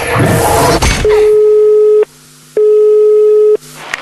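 A telephone busy signal follows the dialing of a call: loud, clean, repeated tones that sound for about a second each, separated by short gaps, after some brief handling noise.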